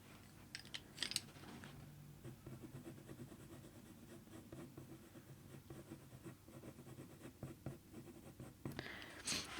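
A colored pencil scratches and strokes across paper while a leopard eye is drawn, soft continuous scraping with faint taps, close and quiet with no voices.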